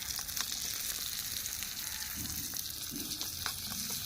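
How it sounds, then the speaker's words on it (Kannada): Onion and coriander are stirred into hot oil in a miniature frying pan outdoors, a steady close sizzle broken by a few soft scraping stirs. "ಉಳ್ಳಾಗಡ್ಡಿ ಹಾಕಿ ಮಿಕ್ಸ್ ಮಾಡ್ತೇನೆ ರೀ"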